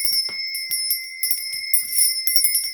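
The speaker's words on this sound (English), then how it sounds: "I'm going to be ringing this bell" A handheld bell rings repeatedly in a steady series of clear, sustained metallic tones, close and loud, each strike layering over the last without any talk.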